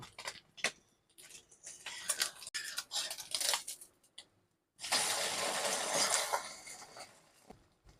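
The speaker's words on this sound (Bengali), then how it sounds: "এবারে আমি অপর পিঠটা উল্টে দেব" A fried egg being flipped in a pan, with scattered clinks and scrapes followed by a loud, steady sizzle of frying.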